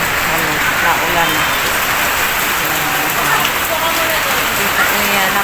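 Rain falls steadily on soil outdoors, a loud, dense, even patter close by with a voice faintly underneath.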